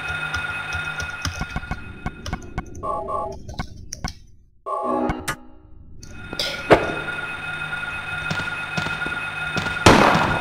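Shotgun blasts in the video game Silent Hill: several sharp, booming shots spaced apart amid game ambience, with a brief quiet lull in the middle and a loud blast near the end.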